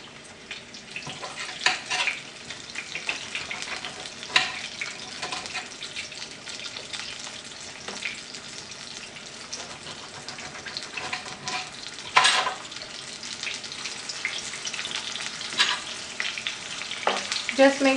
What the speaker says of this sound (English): Just make sure you can use a longer spoon for frying